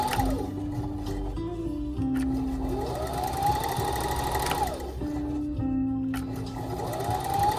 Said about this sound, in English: Here's the machine now. You can see the machine is perfectly working fine.